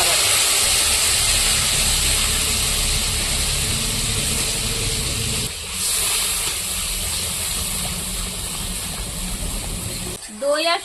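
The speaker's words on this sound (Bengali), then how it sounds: "দই আর শুকনো লঙ্কা বাটাটা আমি ভালো করে দেখুন একটু কষিয়ে নিয়েছি।" Whisked yogurt and dried red chili paste fry in hot oil with a loud, continuous hissing sizzle that eases slightly midway, before a brief voice near the end.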